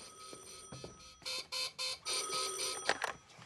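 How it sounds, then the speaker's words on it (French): A red telephone rings in a series of short, insistent electronic bursts, several distinct rings in quick succession at close range against a faint background. "Edmond, c'est le téléphone rouge"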